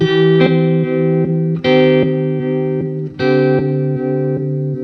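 Electric guitar played through a Chase Bliss Wombtone MKII phaser with square-wave modulation, loud sustained chords chopped into a steady, pulsing rhythm with sharp swells and dips, heard alone.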